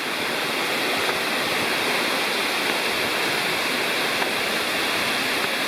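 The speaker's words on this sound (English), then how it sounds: "we finally get to the falls" Margarette Falls in Cherokee National Forest pours over a high, wide rock ledge, a steady, loud, dense roar of falling water that holds unbroken throughout with no voices.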